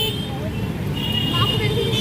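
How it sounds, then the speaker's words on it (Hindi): Dense city traffic around a crowded fair near Ghaziabad's clock tower, with steady engine rumble and a sustained honking tone from vehicle horns running under voices through the whole stretch. "गाड़ियों का हॉर्न के बीच हमारी आवाज़ नहीं आ रही होगी और ट्रैफिक बहुत ज़्यादा है।"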